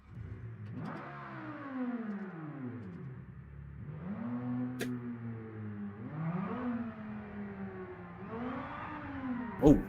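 A V10 GT car engine in the BeamNG.drive driving game revs in repeated rising and falling sweeps, a smooth mid-pitched whine swelling and dropping four times at moderate volume, ending in a brief sharp pop.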